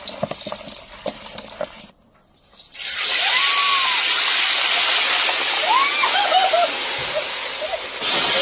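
Liquid poured into a cooking pot for a dish of live koi fish, a steady broad splashing rush running several seconds after a short quiet gap, with scattered background sounds and no clear talk.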